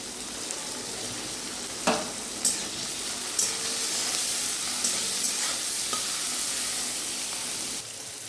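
Bitter gourd with turmeric and salt frying in a pan, a steady close sizzle punctuated by a handful of sharp spatula knocks and scrapes at irregular intervals, with no one speaking.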